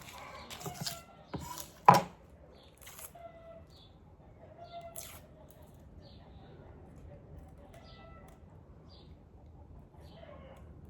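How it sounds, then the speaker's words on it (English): A knife chops onions in a few quick knocks, one sharp and loud, before things fall mostly quiet, with a person talking over it. "I got the onions. I'm gonna cut."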